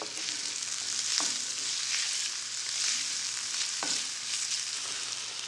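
Vegetables and tomato paste frying in a pan for a seafood stew, a steady, dense sizzle with a couple of soft stirring scrapes, close and continuous.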